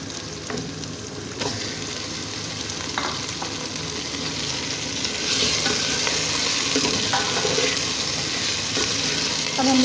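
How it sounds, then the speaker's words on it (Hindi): Mutton pieces sizzle and fry in a pot with ginger-garlic paste for dal gosht, a loud continuous crackle broken by scraping stirs of a spoon, growing slightly louder toward the end. "अब हम इसकी अच्छे से भुनाई करेंगे कि गोश्त का कलर जो है वो चेंज हो जाए"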